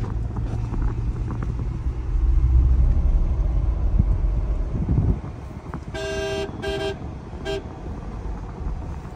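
A car is driven along a light-traffic road, its engine and tyre rumble heavy at first and then easing off, before several short horn toots from nearby vehicles.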